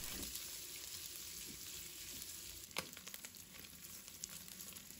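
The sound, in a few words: pork belly stir-frying in oil in a wok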